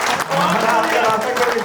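Audience clapping at a Hindi poetry recitation, a dense, steady wash of applause that fills the whole moment without a break.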